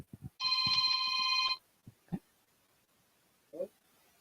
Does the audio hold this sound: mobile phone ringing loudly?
yes